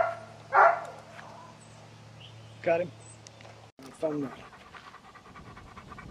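A dog pants and gives a few short vocal yips close to the recorder, with someone speaking briefly between the sounds over a steady low background hum.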